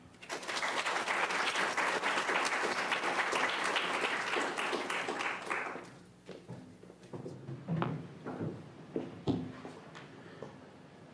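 A lecture audience applauds warmly for about six seconds in a dense burst of many hands, then it fades into scattered shuffling and footsteps.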